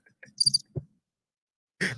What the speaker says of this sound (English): We need some crickets.